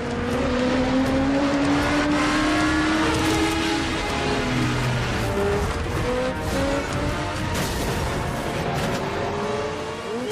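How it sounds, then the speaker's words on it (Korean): Motorcycles racing down a highway near Marrakech, Morocco, in a film chase, engines whining through rising and falling pitch sweeps, loud and continuous with layered vehicle roar and no voices. "뭐니 해도 이 첩보 액션의 클래식은 도로 위에서 펼쳐지는 오토바이 추격전이라고 할 수가 있겠죠"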